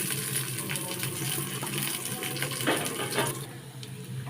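Onions tipped into hot oil with mustard seeds and curry leaves, a steady loud hiss and sizzle that fills the whole stretch up close, with no talk over it.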